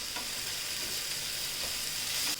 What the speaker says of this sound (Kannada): ಇವಾಗ ಈರುಳ್ಳಿನ ಫ್ರೈ ಮಾಡ್ಕೊಳ್ಳೋಣ.